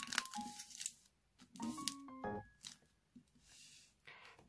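Origami paper is creased and folded into a tulip, giving close, quiet bursts of crinkling and rustling with short sharp crackles between brief pauses.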